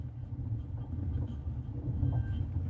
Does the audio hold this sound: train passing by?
yes